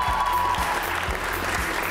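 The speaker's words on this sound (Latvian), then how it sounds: "aplausi, kuri jūsu atbalstītāji." Supporters of a quiz team clapping at a regional semifinal of a science quiz contest, a dense, lively burst of many hands close by with a few low thumps, steady for two seconds.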